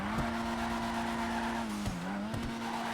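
A Futo GTX drifting in GTA 5 squeals its tires in a sustained, loud screech with a steady pitch that dips briefly mid-slide, engine noise running underneath.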